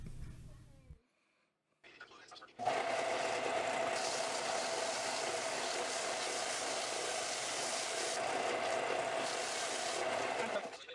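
A belt sander flattens a piece of cholla skeleton wood, its loud, steady grinding whir starting abruptly after a brief quiet pause and running on without a break to the end.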